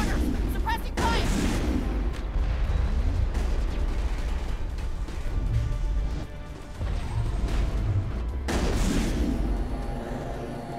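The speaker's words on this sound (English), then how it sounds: "Can't hold them off here much longer. Watch the corner. Suppressing fire." Gunfire in the sci-fi shooter Mass Effect during the Virmire battle against Saren: dense, continuous weapon fire and impacts roar for the whole stretch, with sharp loud bursts near the start and again toward the end.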